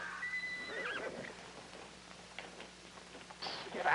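A horse whinnies loudly near the start with rising and falling neighs, followed by scuffling and movement sounds in a 1950s TV drama scene, and a second sharp horse call near the end.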